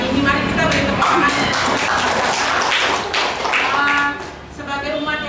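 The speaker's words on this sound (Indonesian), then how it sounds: "Mari kita beri tepuk tangan." Audience applause from guests at a school visit event in a kindergarten hall, steady clapping throughout with some tapping and shuffling, fading slightly near the end.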